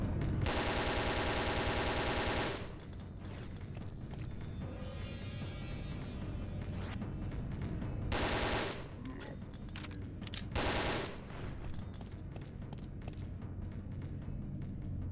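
Sustained automatic fire from an assault rifle with a 100-round drum magazine in Resident Evil: Dead Aim, loud and continuous in long bursts with brief pauses, under faint talk.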